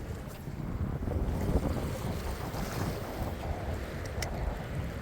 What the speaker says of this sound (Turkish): Eyvah rüzgar çıktı.